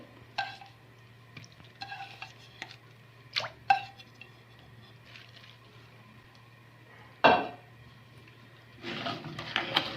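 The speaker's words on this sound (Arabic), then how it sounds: "هننزل البصلايه اهي" An onion is added to a cooking pot while lentils are being prepared, heard as a few soft, close splashes and wet plops spread apart, with quiet pauses between them and a hum underneath.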